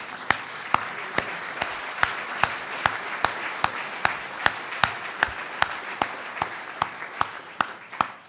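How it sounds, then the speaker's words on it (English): Standing audience gives a speaker a thundering ovation at a talk on values, a steady roar of many hands with one loud, close clapper beating out an even rhythm over it throughout. "I would request all of you to please rise and give him a thundering applause"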